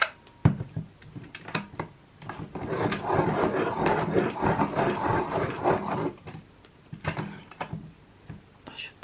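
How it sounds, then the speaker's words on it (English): A cobalt green watercolour pencil being sharpened: close, quiet scraping and rasping of wood in bursts, with a denser stretch of grinding in the middle and small ticks around it. "Light cobalt blue and then cobalt green, which I'm actually going to sharpen."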